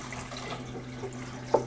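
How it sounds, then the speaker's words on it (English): Water runs into a boiler being filled toward the 10-cup mark, a faint steady trickle over a low electrical hum, ending in a brief louder splash. "you are going to put water in the boiler"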